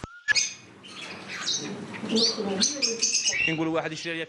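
Caged birds at a bird seller's shop in Tamanrasset give bright, varied chirps and tweets, close and overlapping in quick bursts, with soft cooing underneath.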